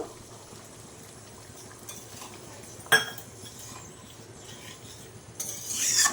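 Pointed gourd and mung dal stirred in a pot after milk goes in, with soft liquid churning, a sharp clink of the utensil against the pot, and louder scraping near the end.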